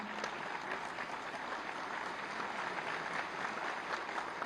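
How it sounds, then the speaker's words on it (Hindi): Faint, steady applause from the audience at a government appointment letter ceremony, a continuous wash of clapping heard from a distance without distinct individual claps. "एक बार सभी के लिए जोरदार तालियां।"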